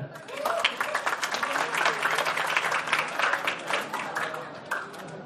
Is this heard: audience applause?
yes